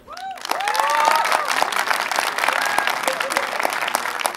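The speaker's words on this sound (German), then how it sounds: "Jetzt brauchen wir einen Applaus für M." Audience applause and some cheering at a CineSneak sneak-preview cinema event in Fulda, a dense steady clatter of clapping filling the room for several seconds, with a few whoops near the start.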